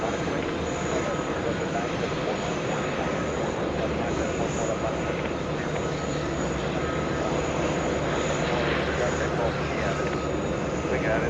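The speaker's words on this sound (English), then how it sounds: "We are staying with that 777 landing in the distance" Boeing 777 airliner landing at JFK airport in the distance, a steady broad engine roar holding level throughout, with talk faintly mixed in.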